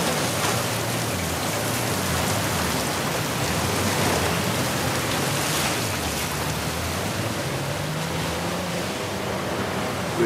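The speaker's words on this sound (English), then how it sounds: "A secret cave behind a waterfall." Waterfall in the video game Uncharted 4, a steady, dense rushing roar of falling water that stays constant and fairly loud throughout, with no voices.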